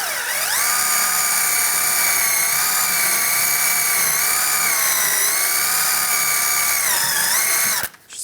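A powered wire brush scrubs rust off the rear brake bracket of a 1999-2005 Volkswagen Jetta, making a loud, high, whining grind with slight pitch dips as pressure changes, then cutting off sharply near the end.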